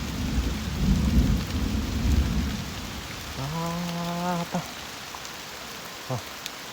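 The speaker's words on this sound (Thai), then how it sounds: "ฝนตกแห้งเลยขนาดเลย" Heavy rain pours over a forest camp with a low rumble of thunder, a loud wash early that fades as a brief tonal call and a few faint knocks sound near the end.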